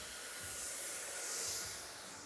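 Blow dryer drying hair, a steady close whooshing airflow hiss holding constant at moderate loudness with slight swells, no talking.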